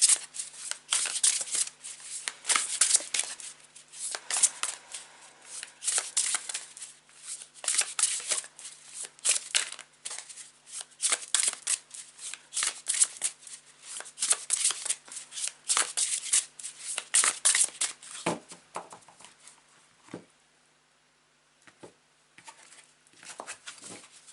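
A deck of tarot cards is shuffled continuously, close and crisp, making dense overlapping riffles and slides for about twenty seconds before tapering into a few quiet taps.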